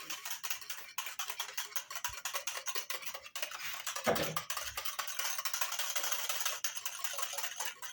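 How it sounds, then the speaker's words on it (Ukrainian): A whisk clicks rapidly and evenly against a bowl, stirring kvass liquid in a fast steady rhythm, close by, with a brief dull knock midway. "І для зручності все вінчиком його перемішую"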